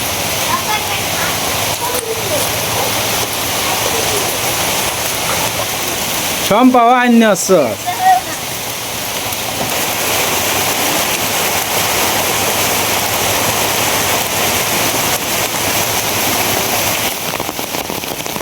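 Heavy rain falls outdoors at a fishing spot, a loud, dense, steady roar that runs throughout, briefly broken by a close voice speaking.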